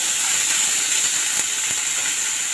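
Curry leaves, chopped onion, vegetables and cooked green peas dropped into hot oil with popped mustard seeds, giving a loud, steady hiss of sizzling that fills the clip with no talking.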